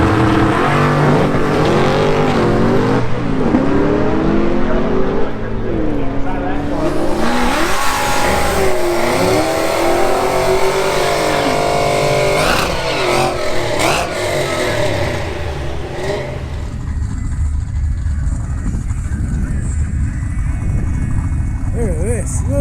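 Fast drag racing cars rev loudly and continuously at the NMRA Springbreak Shootout, their engines roaring close by with rising and falling pitch as people talk over the din.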